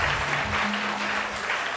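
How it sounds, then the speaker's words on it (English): An audience at a children's camp talents-day show applauds the young performers, a full, even burst of clapping throughout the short stretch. "Can we have one more round of applause for the enthusiasm that the children showed us?"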